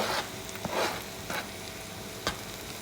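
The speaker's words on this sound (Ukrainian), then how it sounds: "Поклали ми смажити цибулю." Onion fries in a pan with a soft, steady sizzle, broken by a few sharper scrapes and knocks as it gets stirred.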